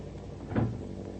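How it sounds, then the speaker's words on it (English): A door being shut in an old-time radio adventure, a single muffled thump with a short rattle, close and brief against a quiet background. "I would feel safer if I locked myself behind this door"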